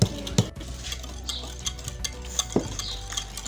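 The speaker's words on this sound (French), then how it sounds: "avec le beurre fondu mélangé à l'huile, on va venir fouetter le tout jusqu'à avoir une préparation homogène" Melted butter and oil being whisked together in a bowl for a chocolate cake batter, with soft, steady scraping and a few louder knocks of the whisk against the bowl.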